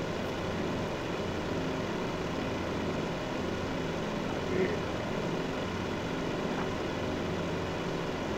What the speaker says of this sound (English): I just got hit by an anti-sub plane.